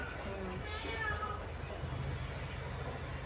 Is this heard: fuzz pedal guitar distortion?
no